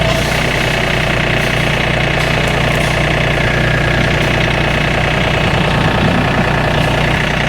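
A tractor engine idles steadily and loudly at close range, with a constant low rumble and no voices.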